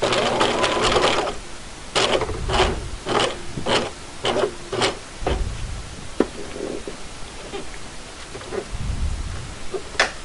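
A sewing machine stitches a hammock tree strap in a run of short, loud bursts with brief pauses between them, close up, and no talking.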